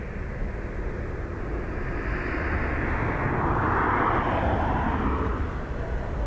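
A Lufthansa airliner on approach at Dublin Airport during a windy storm, its engine roar swelling steadily and peaking mid-pass over gusty wind noise, heard from a fair distance.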